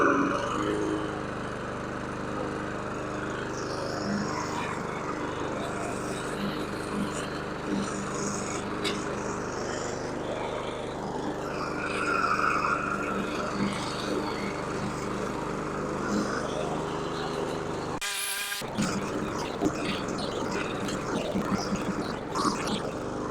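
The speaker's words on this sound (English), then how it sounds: "We'll just cut a little bit of these weeds right here." A Husqvarna HU700f lawn mower with a GVC 160 engine, running on a freshly swapped carburetor, drones steadily while cutting through weeds, its engine hum continuous and fairly close with small fluctuations.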